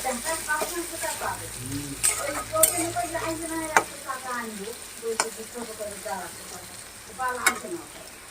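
Tangra fish frying in a pan, a steady sizzle with stirring and occasional clinks of utensils, heard up close while people talk in Bengali.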